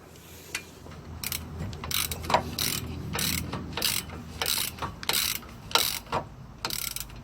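A ratchet wrench tightens a brake caliper bolt on a 2015 Ford Taurus SHO during a front brake job, giving several short bursts of clicking, close and fairly loud, with brief pauses between strokes and no talking.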